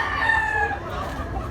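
A yellow-legged bulik stag rooster of Maclean bloodline crows once, close and loud, its harmonic call trailing off after about a second against faint background noise.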